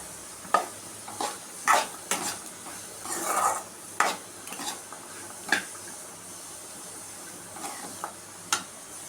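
Vegetables with turmeric, chili powder and garam masala sautéing in a pan, a soft background sizzle broken by repeated scraping strokes of a spoon stirring, close and without speech.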